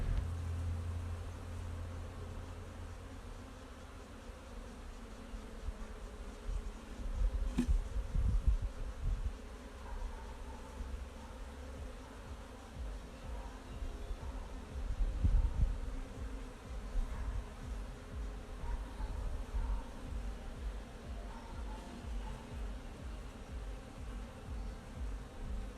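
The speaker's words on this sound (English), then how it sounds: "the bees are now responding fairly frantically. You can see them flying around" Honeybees swarm around a hive just after re-queening, a constant buzzing drone with nearby bees darting past in louder swells over a faint steady hum.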